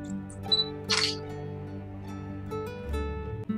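A DSLR camera shutter fires while shooting at f/2.8, 1/80 s and ISO 400, giving a sharp mechanical click close to the microphone amid quiet room tone, with a couple of softer handling clicks around it.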